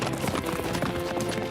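Horse hooves clip-clop in a quick, even rhythm of close, clear knocks over a short stretch, sounding like a horse trotting off at a lively pace.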